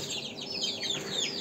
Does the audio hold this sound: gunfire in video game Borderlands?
no